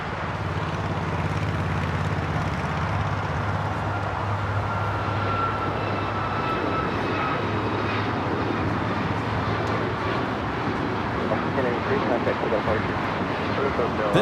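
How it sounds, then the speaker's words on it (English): An Alaska Airlines Boeing 737 MAX 9 taking off at Los Angeles airport, a steady, broad engine roar that holds throughout with a low droning hum underneath, heard at a moderate distance. "This is Alaska Airlines 1083 taking off to Seattle on the MAX 9"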